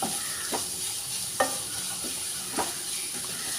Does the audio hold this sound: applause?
no